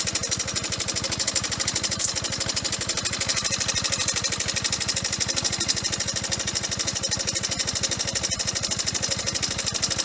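An old, unmaintained motorbike engine runs steadily, its rapid rattling knock pulsing evenly for ten seconds at close range, loud and unbroken with no voices.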